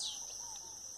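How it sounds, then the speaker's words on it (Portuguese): Several birds sing at dawn on a rural farm, a steady bright high-pitched chorus of chirps and calls running continuously through the moment, with no voices. "Olha só, muitos pássaros cantando, ó."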